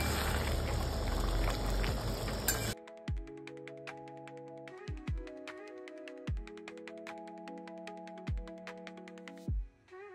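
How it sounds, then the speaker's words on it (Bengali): Pointed gourd and prawn curry simmering in water in a pan: a dense, loud bubbling hiss at first, then quieter, steady popping and bursting bubbles with occasional louder plops. "জল ঢেলে একটু সিদ্ধ হয়ে যায়, তারপরে নামিয়ে দেবো"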